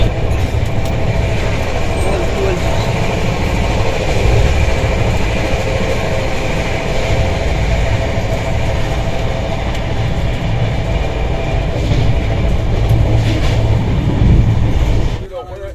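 Sealdah–Bikaner Duronto express running on rails, a steady loud rumble of wheels and carriage noise throughout, with voices faintly present beneath the continuous rolling din.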